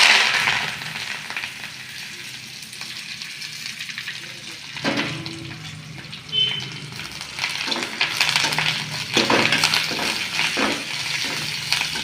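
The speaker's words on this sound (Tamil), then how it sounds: "எண்ணெய் காஞ்சதுக்கப்புறம் பார்த்திங்கன்னா கருவேப்பிலை போட்டுக்கலாம்." Fresh curry leaves dropped into hot oil in a home kitchen, crackling and sizzling loudly with bursts of spitting, stirring scrapes and pops over about twelve seconds, no voices.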